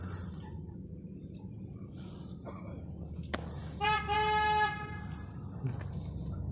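A car horn gives one sustained honk of about a second amid low, steady outdoor background noise, fairly near, with quieter moments before and after.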